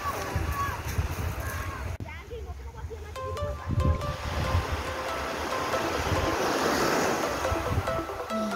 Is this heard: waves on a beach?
yes